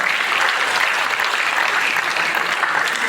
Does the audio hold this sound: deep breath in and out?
no